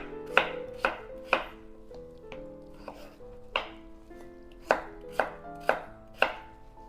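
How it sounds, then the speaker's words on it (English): A knife chops carrots into big chunks sharply against a cutting board, about ten crisp strikes in uneven bursts, close and clear with a quiet background. "I'm just chopping these carrots into some big chunks"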